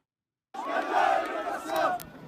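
A crowd gathered to await released prisoners shouts and chants loudly in a news report, a surging roar of many voices that begins abruptly after a short silence.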